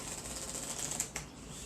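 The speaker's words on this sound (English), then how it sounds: "Gonna shuffle these up so everyone can see how good this shuffle is." A deck of playing cards is riffled and shuffled, giving a faint, fine crackling flutter with a few sharper snaps near the end, quiet and close with no talking.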